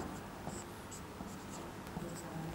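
Chalk or marker writing on a board during an electrostatics physics lecture, a soft continuous scratching with brief squeaky strokes, close and fairly quiet over room hum.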